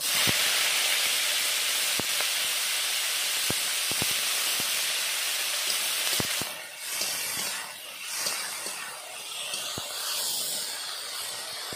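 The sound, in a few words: dried shrimp frying in mustard oil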